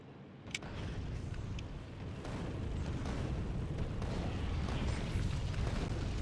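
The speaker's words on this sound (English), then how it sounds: "Love the smell of cannon shells in the morning." Cannon shells fire and explode in the video game Factorio as a continuous rumbling barrage of dense booms and bursts, loud and unbroken, with no talking heard.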